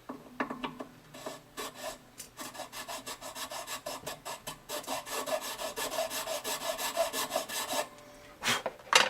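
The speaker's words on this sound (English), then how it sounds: "I'm trying to hold the file at the same angle the peg head here is." A file rasping across a tusk nut on a Gibson Southern Jumbo acoustic guitar, with a long run of quick, even back-and-forth strokes close by, quiet and alone, pausing briefly near the end.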